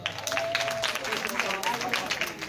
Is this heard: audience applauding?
yes